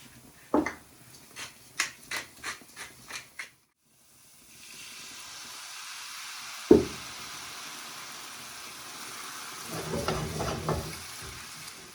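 Mushroom duxelles with a splash of wine cooking down in a pan: a run of sharp knocks and taps first, then a soft, steady sizzle with a louder clack and swelling hiss.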